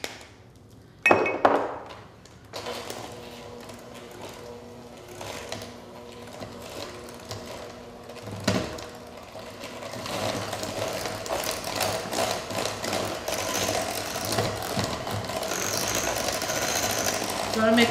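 Electric mixer beating room-temperature cream cheese and sugar in a home kitchen, a steady mechanical whir that starts after a few sharp clacks and runs continuously, growing louder toward the end, with a voice speaking briefly over it.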